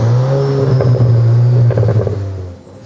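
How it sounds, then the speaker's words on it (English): A Volkswagen Arteon R with quad exhausts accelerates hard, its loud sustained engine note rising and holding before easing off near the end, with no talking. "the quad exhausts producing the kind of exhaust note you want to hear"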